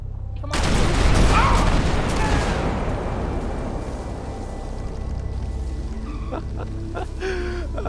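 A cereal-box bomb detonates in a police roleplay video game, one loud broadband blast that rolls into a long decaying rumble with debris-like crackle, then a quieter tail with some faint tonal sounds near the end.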